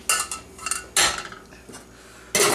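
Fig paste scraped out of a pan with a utensil: several sharp, close metallic scrapes and knocks arrive in bursts, separated by brief quieter gaps, with no voices.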